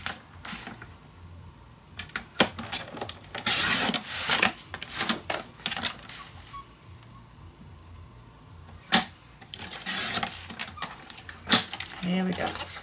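Scissors cutting patterned paper for a shabby chic scrapbook mini album: a series of sharp snips, papery rustles and swishes, some louder bursts, spaced out irregularly at close range.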